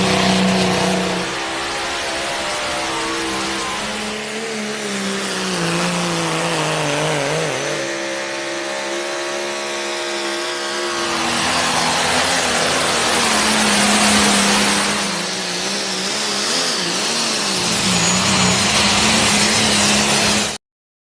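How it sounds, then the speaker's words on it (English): Pulling tractor roars at a truck and tractor pull at an orchard in Sibley, Missouri, a loud, sustained engine howl that rises and falls in pitch over about twenty seconds and cuts off abruptly at the end. "Ken and Sydney Summers with the Buckner truck and tractor pull up here in Sibley, Missouri at the Sibley Orchard"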